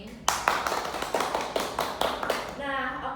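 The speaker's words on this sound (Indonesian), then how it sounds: "kita beri tepuk tangan dulu untuk jawaban dari kedua narasumber ini" A small audience at a corporate panel event claps in a handful of distinct, moderately loud claps for the speakers, spaced fairly evenly over a few seconds before a voice begins speaking.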